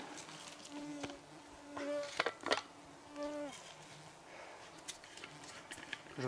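Mosquitoes buzzing and whining near the ear in short passes in the northern taiga, with faint birdsong and scattered ticks in the background.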